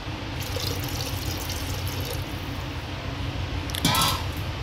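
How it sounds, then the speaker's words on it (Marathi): Water runs steadily into a metal pressure cooker, a continuous close splashing pour with a brief clatter near the end. "सुरुवातीला थोडंसं पाणी घालू."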